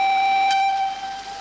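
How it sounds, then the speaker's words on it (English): A Great Western steam locomotive, engine no. 4 Edward Thomas, sounds a loud, clear sustained whistle with a steady tone, close by, fading slightly toward the end with a little steam hiss. "Don't I hear a Great Western whistle?"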